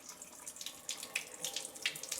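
Water runs steadily from a tap while a Rhipsalis houseplant gets a thorough soak indoors, with a continuous splashing hiss and brighter bursts as the stream hits soil and leaves, close and alone.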